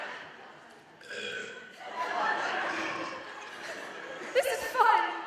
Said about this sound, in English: Burping's the answer!